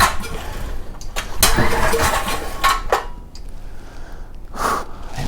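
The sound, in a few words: pull-starting a 5000 watt generator engine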